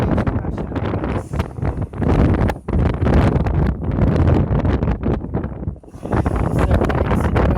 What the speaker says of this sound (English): Waves crashing over us.